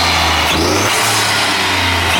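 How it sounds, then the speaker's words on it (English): A Ford Fiesta ST engine fitted with an induction kit revs up loudly with a throaty intake roar, holding a steady high drone close by for about two seconds. "Do you want me to rev it?"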